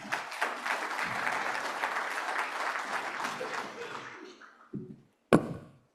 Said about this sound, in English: Please give a round of applause to welcome them both.